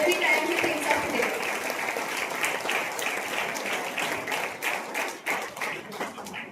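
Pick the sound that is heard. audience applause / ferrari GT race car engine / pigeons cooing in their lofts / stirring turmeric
audience applause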